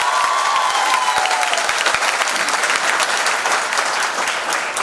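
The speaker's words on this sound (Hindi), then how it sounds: "एक बार मुझे तालियों से सूचित करिए" A large audience at a Holi festival honours ceremony applauds loudly and steadily, dense clapping filling the whole stretch without letting up.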